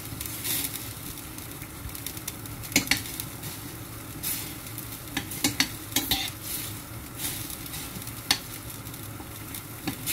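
A potato and eggplant dish is stirred and tossed in a hot pan, with a steady sizzle and frying hiss under repeated scraping strokes and occasional clacks of the utensil against the pan, close and fairly loud.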